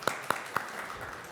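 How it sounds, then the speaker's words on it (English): An audience begins applauding at a professional lecture on ethics and conduct, three sharp separate claps close by, then a low diffuse patter of clapping fading behind. "A big round of applause for you"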